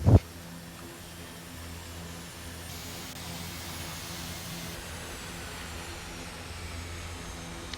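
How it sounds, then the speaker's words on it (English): A steady low engine drone with a faint rising hum as an aircraft passes in the X-Plane 11 flight simulator, after a brief thump at the start. "Heard a plane."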